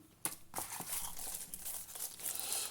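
Phone charger being unwrapped from plastic packaging, quiet close crinkling and crackling with several sharp rustles and tearing bursts over a few seconds.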